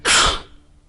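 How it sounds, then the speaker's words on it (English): A single close, loud sneeze, a sharp burst followed by a quickly fading tail, with nothing else around it. "I'm the only one who sneezes during the recording."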